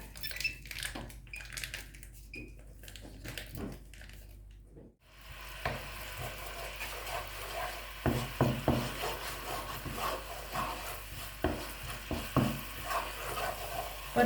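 Instant Korat noodles are stir-fried in a pan, with a steady close sizzle and frequent wooden scrapes and knocks as they are tossed. After a brief pause, the frying and stirring resume with louder, rhythmic clatter and no talking.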